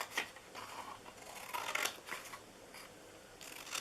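Scissors snip through paper while a bunny treat box is made, a handful of short crisp cuts close by with brief pauses between them, no talking.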